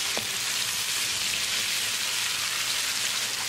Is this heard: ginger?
yes